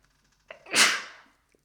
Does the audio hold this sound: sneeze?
yes